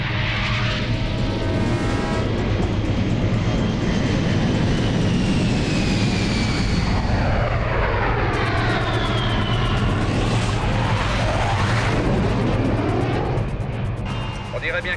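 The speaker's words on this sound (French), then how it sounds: "Il vient juste de décoller." A patrol aircraft takes off, its engine roar loud and continuous with a rising then sweeping pitch as it climbs away, while people talk over it.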